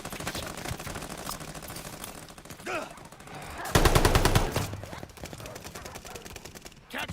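MP-40 submachine gun fire in Call of Duty Vanguard, a rapid automatic burst rattling loudly in the middle, with scattered distant shots and game noise around it.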